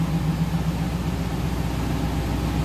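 A 1979 GMC Caballero's small-block Chevy 350 V8 idles with a steady, low rumbling burble at moderate level, exhaust run beneath the car, continuous and without talk.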